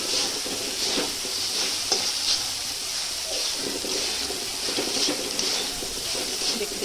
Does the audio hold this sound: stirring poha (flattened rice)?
yes